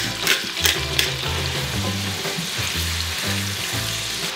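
Mushrooms sizzle steadily in a hot pan while being stirred for carbonara, with a close, continuous frying crackle and a few scraping stir sounds near the start, no talking.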